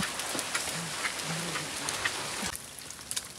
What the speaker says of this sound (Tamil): மழை சோன்னு பெய்ய ஆரம்பிச்சிருச்சு